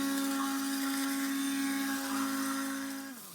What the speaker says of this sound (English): get the stick blender and blitz it down so it's nice and smooth